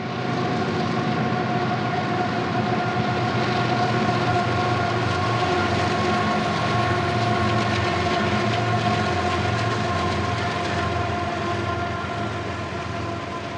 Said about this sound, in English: Only minutes later, the second Z train followed.